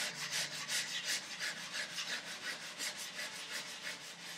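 Hand sanding of wood with worn 150 grit sandpaper: steady back-and-forth rasping strokes in a quick even rhythm, close and clear, with no talking.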